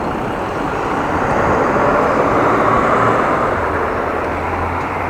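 A loud, continuous engine roar of a bus in heavy traffic, heard from behind it, a steady low rumble with broadband road noise and no voices.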